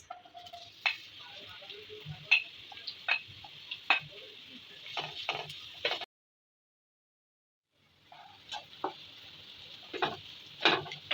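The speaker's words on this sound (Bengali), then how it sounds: "আমি প্রথমে কুকিং অয়েল দিয়ে দিচ্ছি এখন দিয়ে দেবো পেঁয়াজ" Onion frying in cooking oil, with a steady crackling sizzle broken by sharp clicks of stirring; the sound stops for a couple of seconds, then resumes just as before.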